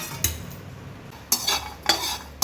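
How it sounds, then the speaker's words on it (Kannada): Dry coconut added to a pan and stirred while roasting for a spice powder, with a few sharp scraping clinks of a metal spoon against the pan over low background noise. "ಕೊಬ್ಬರಿ ಹಾಕ್ತಾ ಇದ್ದೇನೆ ನೋಡಿ"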